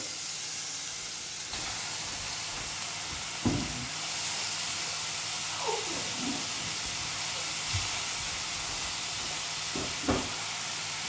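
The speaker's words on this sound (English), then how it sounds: "Onion and shallot. Fry that down." Onion and shallot frying in olive oil in a pan make a constant soft sizzle, with a few short scraping knocks scattered through it.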